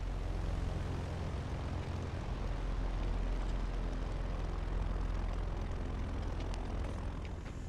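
A Cessna Corvallis TT engine runs steadily while taxiing in Microsoft Flight Simulator 2024. It is a loud, continuous propeller drone with broad roar and no breaks, and no talking over it.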